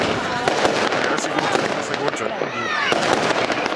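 An Aquila 16-shot firework cake with silver comet rises and red and green brocade bouquets, a loud, continuous run of crackling bursts and whistling rises, with someone talking over the display.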